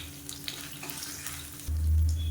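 Garlic, ginger and dried chillies frying in hot oil, a steady soft sizzle that swells louder near the end, with no talking.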